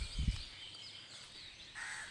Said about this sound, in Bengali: পাখিদের কিচিবিচি শব্দ আসলে সকাল সকাল একটু ভালো লাগে